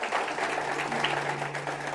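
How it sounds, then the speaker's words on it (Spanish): Applause from a conference audience in Spain greeting a speaker: steady, dense clapping that holds for two seconds at an even level, with a faint hum beneath it. "Un fuerte aplauso a don Gustavo en este día para empezar."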